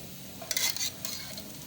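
Sugar-filled sweet paratha frying in ghee on a hot griddle, a low steady sizzle with brief brighter crackling and scraping bursts partway through, close and fairly quiet, no voices.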